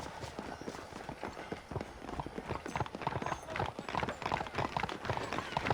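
Horse hooves clip-clop steadily on a road in the Red Dead Redemption video game, a busy run of hoofbeats with faint voices in the background.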